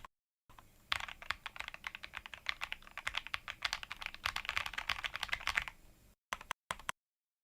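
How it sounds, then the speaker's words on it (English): Rapid, continuous typing rattles on a self-made keyboard, a dense run of close, crisp key clicks for several seconds, then a few last isolated taps before silence. "Yes, this is a self-made keyboard"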